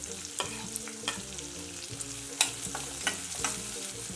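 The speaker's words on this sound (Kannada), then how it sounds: "ಈರುಳ್ಳಿ ಸ್ವಲ್ಪ ಕಲರ್ ಚೇಂಜ್ ಆಗಲಿ ಅಲ್ಲಿವರೆಗೂ ಫ್ರೈ ಮಾಡ್ಕೊಳ್ಳೋಣ" Onion, carrot and curry leaves fry in a pan for khara bath, a steady close sizzle broken by occasional stirring clinks and scrapes, with no voices.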